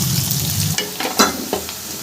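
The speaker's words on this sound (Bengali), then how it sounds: "মাছ ভাজার তেলের মধ্যে দিয়ে দিলাম কুচনো পেঁয়াজ" Chopped onion frying in leftover fish-frying oil crackles and sizzles loudly up close, with a few quick stirring scrapes over about two seconds.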